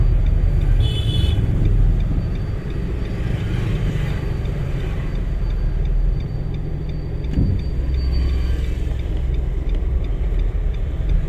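A driving-school car sits with its engine left running, a steady low idle rumble holding throughout with a faint ticking and a brief knock partway through, no voices.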